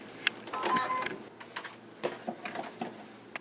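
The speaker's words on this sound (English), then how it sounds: "So let me go ahead and sew that" A sewing machine runs quarter-inch seams along both sides of a place mat, its motor whirring in irregular short bursts with small mechanical clicks, fairly quiet and close, with no talking.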